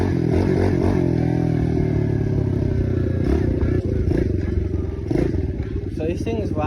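A 2023 Kawasaki KLX 110R dirt bike runs steadily with a buzzing mid-pitched engine drone, loud and near, with slight surges in revs and someone talking over it.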